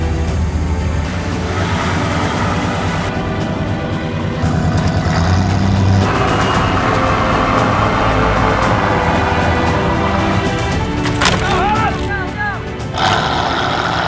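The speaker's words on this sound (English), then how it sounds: "Starting from a static position, that's a lot of weight to pull up, even for that huge monster truck" A huge monster truck strains to tow a heavy Jurassic Park RV up a small hill from a standstill, its engine droning loud and steady with revving surges and broadband roar throughout, while people talk nearby.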